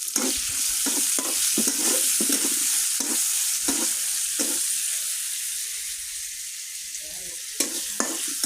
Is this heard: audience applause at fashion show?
no